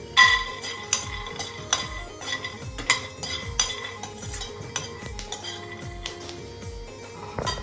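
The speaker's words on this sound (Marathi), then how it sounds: "आता हे आपल्याला भाजायचे. शेंगदाणे आणि हे खोबरं." Peanuts and coconut dry-roasting in a pan for a traditional Maharashtrian brinjal bharit, with repeated metallic clinks and scrapes of a spoon stirring against the pan, close and steady, no talking.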